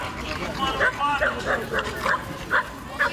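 Dogs at an international dog show in Parcul Bucov yip and bark in a quick series of short, repeated calls. The barking is moderately close and sits under a steady background of crowd noise and talk.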